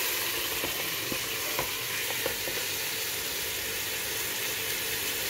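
Marinated mutton with chilies frying in a pot for Hyderabadi biryani, a dense continuous sizzle with a few faint scrapes of stirring, close and steady.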